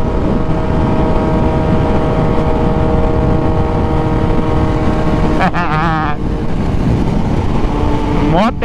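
A motorcycle engine drones loudly and steadily while riding, with wind rushing past. Brief gear-shift rev changes break in near the middle and the end.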